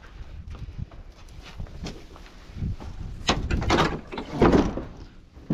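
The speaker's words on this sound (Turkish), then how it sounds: "Kapı kapanıyor." A door on a newly built chick coop swings shut amid shuffling and handling noises, with a few sharp knocks and bumps clustered toward the end, fairly close.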